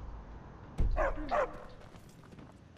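A dog in the Skyrim video game gives two quick barks, close and fairly loud, with quiet background ambience before and after.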